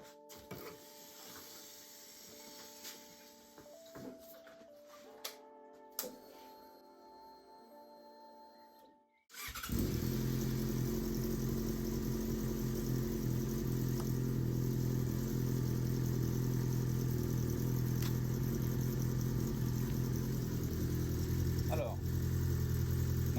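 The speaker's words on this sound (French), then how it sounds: "Je vais même la démarrer là maintenant tout de suite." Jaguar XJ6, a 650-euro wreck, is started after quiet shuffling and clicks; the engine catches at once with a loud burst and settles into a steady, close, rumbling idle that continues to the end.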